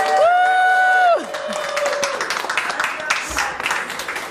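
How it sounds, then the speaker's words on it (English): Studio audience at a reunion show applauding and cheering, beginning with a loud sustained whooping cheer before giving way to a steady wash of clapping and crowd noise that continues to the end. "Give him a round of applause."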